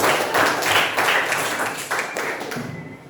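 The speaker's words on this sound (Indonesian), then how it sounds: "Silakan berikan tepuk tangan kepada teman-teman." A vocational high school class applauding classmates at the end of a lesson, a short burst of hand clapping that starts loud and slowly fades over about three seconds.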